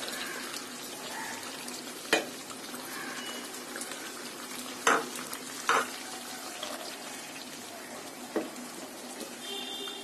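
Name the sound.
spice masala being fried with a little water in a pan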